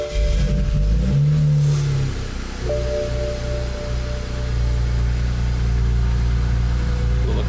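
A BMW 335xi engine cranks and fires up after a fuel sender and fuel filter replacement, then settles into a steady, close idle hum with a faint whine.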